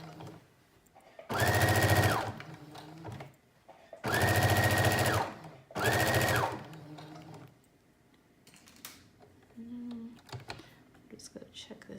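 A home sewing machine stitches a teddy bear jacket in three loud, steady bursts of about one to two seconds each, with quiet handling pauses between them and soft fabric rustling afterward.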